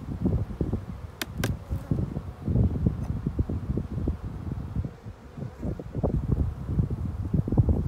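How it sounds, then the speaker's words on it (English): Strong outdoor wind in early spring buffets the microphone with continuous low rumbling gusts that rise and fall throughout, with no voices. "That wind is bad today."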